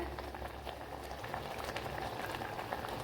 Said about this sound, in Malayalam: തിളച്ച് കുറുകിയിട്ടുണ്ട് കണ്ടല്ലേ